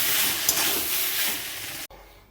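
Potatoes with tomato sauce being stirred in a frying pan, a steady broadband sizzle and scrape that runs loud for nearly two seconds and then cuts off abruptly into near silence.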